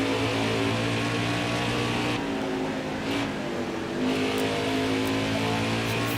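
Race car engines from NASCAR Heat 5, Xfinity Series at Road America, roar loud and steady throughout, with a dip in pitch around the middle before the engine note climbs again.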